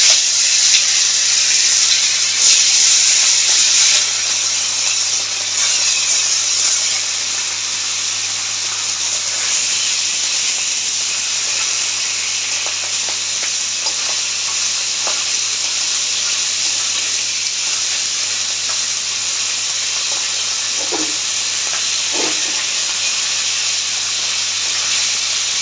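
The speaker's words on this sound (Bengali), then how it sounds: "নুন হলুদ মাখানো কমপ্লিট মাছটা কড়াইতে গরম তেলে ছেড়ে দিচ্ছি।" Pomfret pieces rubbed with salt and turmeric sizzle in hot oil in a wok, a loud continuous hiss and crackle that holds steady throughout with no voices.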